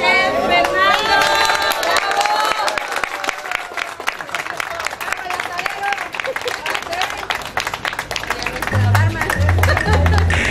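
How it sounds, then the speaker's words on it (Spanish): A crowd at a grill restaurant's opening applauds chef Fernando with loud, sustained clapping and scattered cheers, while voices chatter and call out over it, and a low musical tone sounds near the end. "Un aplauso al chef Fernando."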